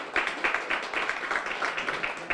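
An audience applauds a film at an evening screening of "All the Way", a moderate, steady patter of many hands clapping throughout.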